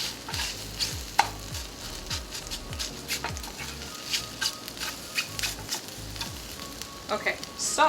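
Eggs frying in a pan on the stove, a close sizzle broken by repeated utensil taps and scrapes in an uneven rhythm.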